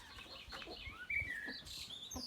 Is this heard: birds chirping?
yes